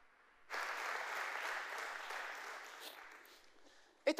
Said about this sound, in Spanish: Denle otro aplauso a Jesús